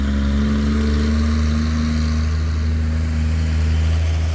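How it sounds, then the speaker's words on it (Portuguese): Cars and motorcycles pass on a noisy street in the early hours of the morning, a continuous low engine drone with steady humming tones and no clear gaps between vehicles. "Essa é a manhã barulhenta, são 3 horas e pouco, mas passa carros, passa motos"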